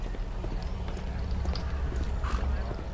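Horse hooves clip-clopping in the Sherlock Holmes video game The Devil's Daughter, a steady run of soft thuds under a dense rumbling street ambience, moderately quiet, with a voice speaking briefly.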